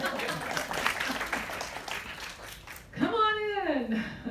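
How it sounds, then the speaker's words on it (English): An audience at a Democratic state party panel gives a brief, fairly quiet round of applause, then a single voice rises over the clapping near the end. "Everybody clap."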